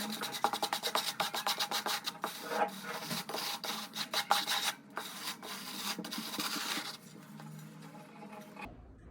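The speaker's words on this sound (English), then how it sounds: "I'm just going to use the wood float to cut the excess" A wood float scrapes and smooths deck mud for a shower pan, giving close rhythmic rasping strokes that repeat quickly, then longer gritty sweeps before they stop, with no voice over them.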